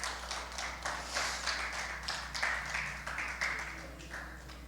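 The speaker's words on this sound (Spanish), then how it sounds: "Denle un fuerte aplauso al Señor" A church congregation at a Spanish-language Good Friday service claps in uneven, rhythmic bursts that rise and fade. The sound is moderately faint and carries a low steady hum beneath it.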